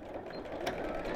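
A sewing machine stitches down the sides of a simple fabric purse, a steady, close mechanical whir with faint clicking running evenly throughout without talk.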